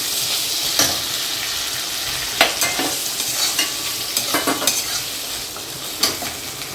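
Ground masala paste for raw mango rice sizzles steadily in a pan while a spoon stirs it, with scattered sharp scrapes and taps over the constant hiss.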